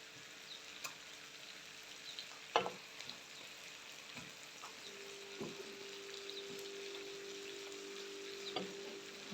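Chicken pieces returned to a pan of garlic sauce sizzle steadily close up, with a few sharp crackles and clatters of stirring scattered through; nobody speaks.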